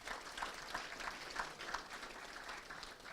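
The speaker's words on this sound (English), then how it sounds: "an applause for our media team" Applause from the audience at the 2018 SFL William Leitch Medal count and awards night, a steady spread of clapping that holds at an even, moderate level across the room, with no one speaking.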